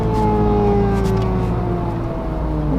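Four-cylinder engine of a Smart Roadster Brabus Coupé pulling steadily while driving, a loud, continuous droning note that sweeps slowly in pitch, heard close with no talking over it.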